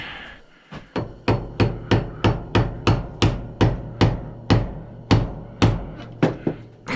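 Repeated sharp hammer blows on metal oil boiler pump parts, about fifteen strikes in a steady rhythm, each a loud close clank with a short ringing tail, with no talking.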